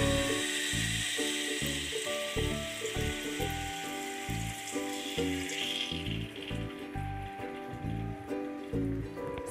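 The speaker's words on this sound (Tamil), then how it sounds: "இப்போ அப்பத்தை வந்து ஒன்று ஒன்றா சுட்டு எடுத்துக்கலாம்" Sweet appam batter frying in hot oil in a kadai, a steady dense sizzle with bubbling crackle throughout; a regular rhythmic tapping pattern runs underneath, with no talking.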